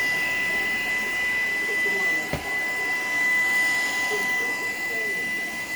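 Shark Power Detect vacuum cleaner running on a kitchen floor, a close, loud, steady high whine with a brief bump partway through and someone talking faintly over it.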